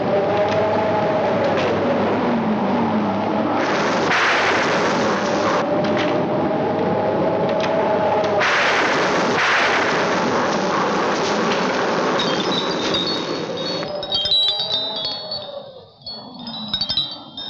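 Heavy storm in a 1976 Hindi film: sustained roaring rumble of wind and rain with swelling bursts like thunder rolling through, loud and continuous, with faint high tones near the end.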